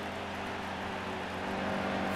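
Racing trucks in NASCAR Heat 2 roar past with a steady, loud engine drone that swells slightly as they pass, with no voices over it.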